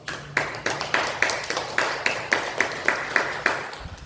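Church congregation clapping in unison in thanks, about a dozen evenly spaced, moderately loud claps in a steady rhythm.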